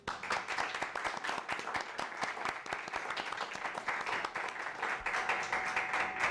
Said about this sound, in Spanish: Un aplauso a todos, por favor.